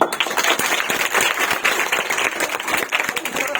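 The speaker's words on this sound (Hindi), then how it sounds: "तो जितने बच्चे हैं उनके एक बार जोर तालियां" Audience applause for schoolchildren at a National Science Day event in Mehuwala, Dehradun: dense, sustained clapping from a crowd, steady and loud throughout with no break.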